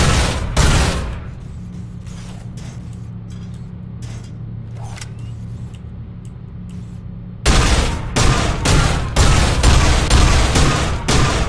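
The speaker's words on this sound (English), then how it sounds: "Saturating the area with bullets," Rapid video game gunfire saturating an area with bullets, dense cracking bursts that sputter briefly, drop to a quieter stretch, then resume in sustained loud volleys.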